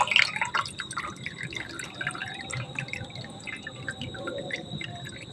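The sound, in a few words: water dripping while draining fresh chhana cheese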